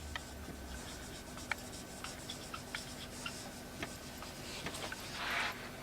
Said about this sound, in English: I write here carriage inward.